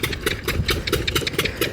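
Engine running steadily at Bhavanisagar dam, a continuous mid-pitched drone with a regular knocking pulse, loud and close with no talk over it.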